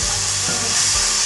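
Soy sauce hitting a hot pan while making red sauce chicken pasta, producing a loud, close, continuous sizzle and hiss with a couple of stirring scrapes.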